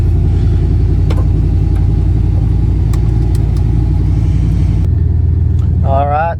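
A Chevy TBI 350 race truck with a five-speed, short-wheelbase body rumbles loudly as its engine drives down the road, a deep, steady throb close up, then a brief whine near the end.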